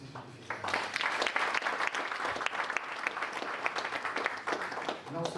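A crowd bursts into lively applause, dense clapping rising quickly and holding strong, with faint voices mixed in.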